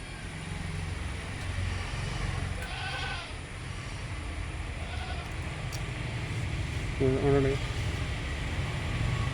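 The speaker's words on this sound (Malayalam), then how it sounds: "നല്ല മേഞ്ഞ് നടന്ന് പറമ്പിൽ മേഞ്ഞ് തിന്നണ ആടാളാണ്" Goats bleating a few times, soft at first and then one louder, nearer bleat, over a constant low background rumble.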